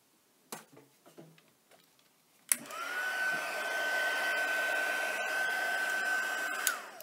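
A heat tool blows steadily to melt clear embossing powder, a loud, continuous whooshing hum that starts abruptly after some light tapping and handling sounds.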